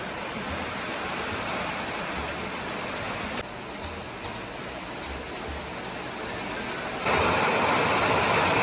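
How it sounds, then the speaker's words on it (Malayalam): Heavy afternoon rain pours outside as a dense, steady roar that swells louder toward the end, with no voices. "ഉച്ച കഴിഞ്ഞപ്പോൾ നല്ല മഴ തുടങ്ങിയിട്ടുണ്ടായിരുന്നു പുറത്ത് പുറത്തിറങ്ങാൻ പറ്റാത്ത രീതിയിലുള്ള മഴയായിരുന്നേ"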